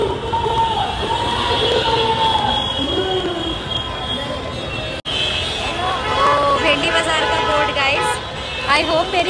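A dense crowd roars and murmurs at an Eid Milad-un-Nabi procession in Dongri, Mumbai, with shouts and cheering throughout and a nearby voice talking over the noise.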